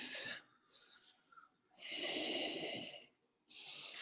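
Deep, audible breaths during an ashtanga yoga class: long, airy inhales and exhales in a slow rhythm, close and quiet, with a short pause between them.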